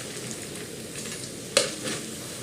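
Broken spaghetti frying in oil in a pot for koshari, a steady close sizzle throughout with a brief louder crackle partway through.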